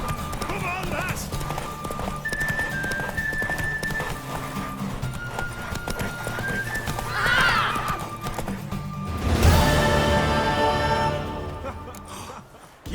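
Rapid hoofbeats of a galloping mare in The Witcher 3 video game drum along under urgent shouting, with a horse's whinny breaking through near the end.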